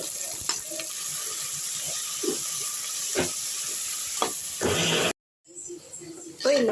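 Sliced onions sautéing in oil for chicken biryani, a steady close hiss and sizzle with a few soft knocks, broken by a short silence near the end before the hiss returns.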